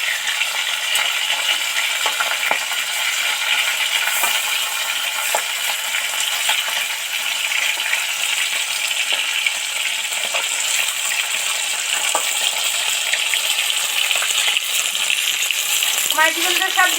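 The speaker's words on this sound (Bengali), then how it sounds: "মাছ যত ভালো ডিপ ফ্রাই করে আস্তে আস্তে ভাজা হয় ততই টেস্টি হবে।" Small fish deep frying slowly in hot oil, giving a continuous loud sizzle and crackle throughout, with occasional sharper pops and a faint voice in the background.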